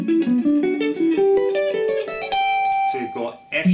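Electric guitar playing quick ascending arpeggio runs in a shred exercise, rapid picked notes climbing in pitch, loud and close, with a short break and a voice cutting in near the end.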